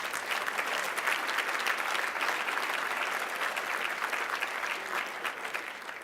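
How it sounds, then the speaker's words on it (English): Sustained audience applause for a senator at a policy conference keynote, a dense, steady wash of many hands clapping at even loudness throughout, with no voices over it. "Let's give your senator another round of applause for his leadership."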